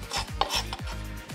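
A knife slices lettuce for a spring salad, with several crisp cutting strokes in an irregular rhythm and a scraping, rasping texture, close and moderately loud with no voices.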